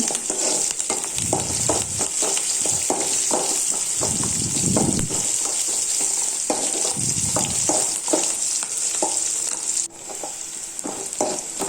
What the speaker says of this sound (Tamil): நல்லா ஃப்ரை பண்ணுங்கள்.